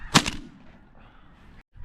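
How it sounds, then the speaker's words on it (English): A single sharp shotgun blast during a spring snow goose hunt in North Dakota, followed by a quick echo, then a fading rumble outdoors. "I'm gonna have to shoot here."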